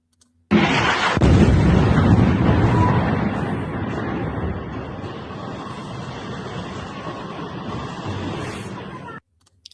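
Missile strike explosion in Tel Aviv, a sudden loud broadband blast followed by a sustained roaring rumble and debris noise that slowly fades over several seconds before cutting off.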